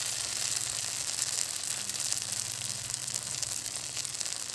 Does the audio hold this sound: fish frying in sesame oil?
yes